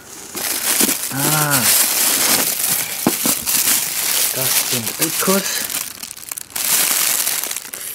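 Packing paper is crumpled and crinkled close by while a large heavy box of electronic parts is unpacked, with rustling bursts throughout under someone speaking German.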